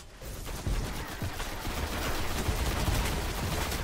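Rapid gunfire from the Destiny video game rattles continuously and loudly in a dense, sustained barrage with no talking.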